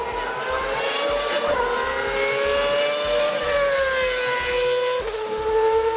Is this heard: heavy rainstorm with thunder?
no